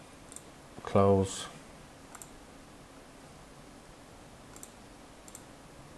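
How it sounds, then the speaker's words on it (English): A single computer mouse click cancelling a render in Fusion360, a crisp close click followed by a few faint ticks in a quiet room, with a word spoken just before it. "So if we just click cancel to that"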